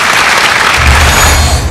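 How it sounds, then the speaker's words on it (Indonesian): Loud studio audience applause on the Dr. Oz Indonesia television show, a close, dense burst of clapping that holds steady, with a low music swell entering partway through. "Beri tepuk tangan untuk Profesor Dr. Yusuf."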